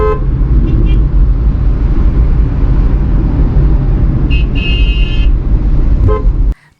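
A KSRTC bus behind a car on a four-lane highway sounds its horn, a sustained honk briefly rising near the end, over loud continuous road and engine roar.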